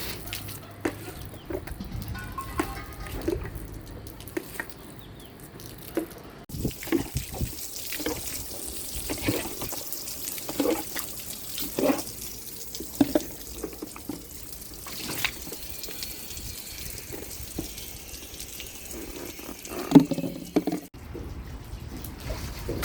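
Foamy soapy water is poured from a container onto a rooftop terrace during cleaning, giving faint, intermittent splashes and trickles with small clatters spread through a quiet background.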